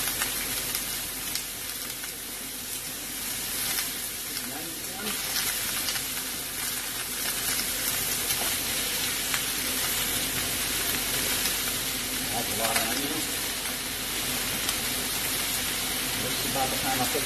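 Beef and broccoli stir-fried with garlic in a hot pan, a steady loud sizzle and hiss running throughout with occasional stirring scrapes and faint background voices.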